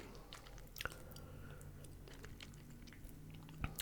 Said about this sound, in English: it's definitely crispity and crunchy